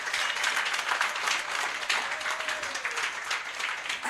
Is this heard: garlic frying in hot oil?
no